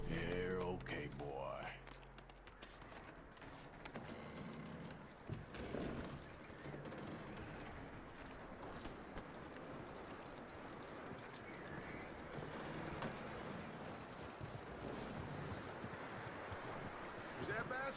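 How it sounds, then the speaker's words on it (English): Horse hooves clip-clop at a walking pace in Red Dead Redemption 2, a steady close rhythm running under game dialogue and ambient sound throughout. "That looks like a decent horse."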